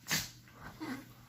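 A pet dog gives a sharp sneeze or snort close by, followed by a few softer snuffling breaths in a quiet room at home in the morning.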